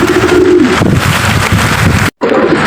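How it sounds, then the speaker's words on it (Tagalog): Pet pigeons that have just been fed coo nearby, with a low murmuring call early on and another near the end over a steady airy background. "Ito na yung mga ibon natin mga kalapatid."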